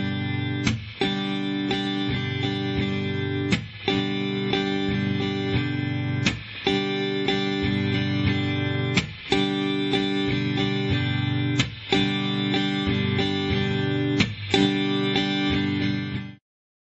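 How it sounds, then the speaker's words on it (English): Acoustic guitar strummed slowly in a steady pattern with percussive chucks, muted strokes landing roughly every few seconds between ringing chords, heard alone and close. "especially on acoustic guitar, that you get good at this chucking."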